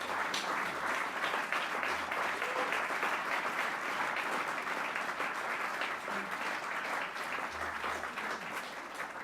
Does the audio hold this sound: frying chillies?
no